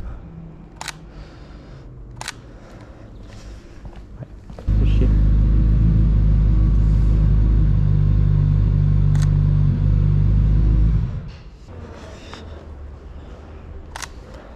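A few sharp camera shutter clicks while taking a horizontal photo on a narrow old street in Angoulême near the cathedral. A loud, low vehicle rumble swells through the middle of the clip and then fades out.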